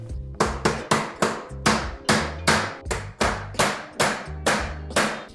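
Close, loud hammer blows drive aluminium Aton shelf components together, about a dozen crisp knocks in a steady rhythm, each ringing briefly before the next, with no talking over them.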